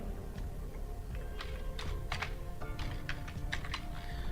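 Steady clicking of keys on a computer keyboard, light irregular taps close by over a constant background hum, with no voices.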